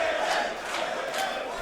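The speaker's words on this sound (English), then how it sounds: "Look at the crowd. They love Chillin." A tournament crowd cheers for a Super Smash Bros. Melee Fox player at a live event, a dense continuous roar of voices with slight swells across the moment.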